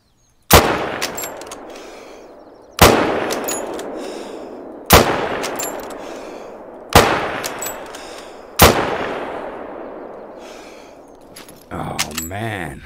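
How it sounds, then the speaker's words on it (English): Rifle shots in the hunting game theHunter: Call of the Wild, five loud sharp cracks a couple of seconds apart, each trailing off in a long echoing decay, with a brief metallic rattle at the end. "The gun goes pretty far, but wow, I was missing a lot there."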